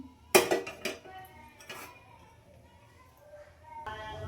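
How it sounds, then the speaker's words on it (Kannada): A single loud metallic clank of a cooking pot set down on a lit stove, followed by a few lighter knocks and clatter, then quiet kitchen room tone. "ಇವಾಗ ಒಂದು ಸ್ಟವ್ ಹಚ್ಬಿಟ್ಟು ನಾವು ಪಾತ್ರೆ ಇಟ್ಕೊಳ್ತೀನಿ"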